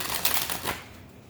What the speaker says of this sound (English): let me shuffle this really well